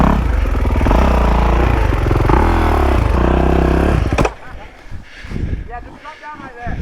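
A dirt motorcycle ridden on the clutch drones and revs loudly up close with a wavering engine note, then drops away to scraping and rustling while a voice talks over it.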